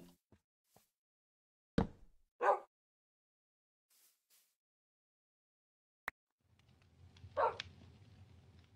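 A few short barks and yips from a Shiba dog in a modded Minecraft world, scattered and fairly faint against near silence.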